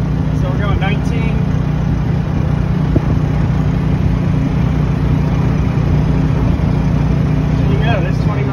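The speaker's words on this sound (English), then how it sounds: "So the generator's kicked on." A generator engine drones steadily on a hybrid electric golf cart moving at around 20 mph, a loud continuous low hum with no breaks, and speech is heard over it.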